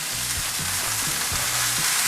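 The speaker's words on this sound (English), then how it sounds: "Check on the meat. Still browning. We have it running on absolute high." Pot roast meat browning in a pan on a stove at full high heat, a dense continuous sizzle with low rumbling pops, loud and close with no voices.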